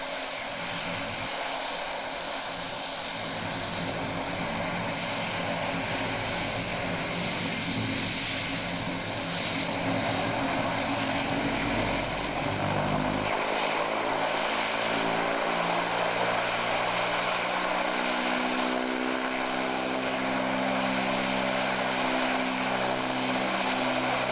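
An Air Force aircraft taking off, its propeller engines droning steadily and loudly throughout, with the pitch shifting and rising as the engines spool up partway along.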